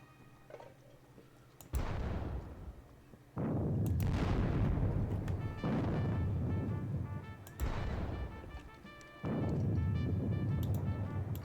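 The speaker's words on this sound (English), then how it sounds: "That was a very nice barrage." Artillery battery barrage in a Borodino-era war video game: four or five heavy booming volleys of cannon fire roll out one after another, each with a sharp onset and a long, rumbling tail, loud and close, with no talking.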